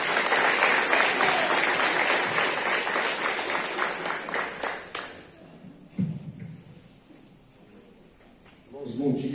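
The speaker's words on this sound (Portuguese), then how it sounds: "Aplauda o Senhor mais uma vez." Church congregation applauding at a Sunday service, a loud burst of many hands clapping that fades after about five seconds, followed by quieter room sounds and a voice speaking near the end.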